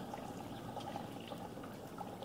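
Liquid poured into a gold recovery solution made from incinerated IC chips, a steady, faint trickle and splash running continuously for a couple of seconds with no talking.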